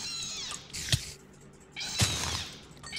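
A harsh, screeching spider cry from Minecraft bursts out twice against a hissy background, with no talking.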